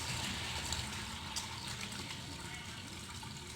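Tap water running steadily as hands are washed up to the elbows with soap, a close, continuous hissing gush with no clear pauses, while someone speaks over it.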